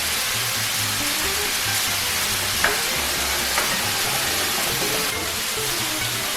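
Onion and bell pepper fry in a pan with a steady, loud sizzle throughout, a couple of faint clinks of a utensil against the pan, and a low voice murmuring underneath.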